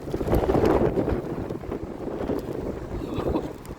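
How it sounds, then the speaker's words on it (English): Strong wind buffets the microphone in heavy, roaring gusts that rise and ease, with no one speaking. "Those gusts are horrendous."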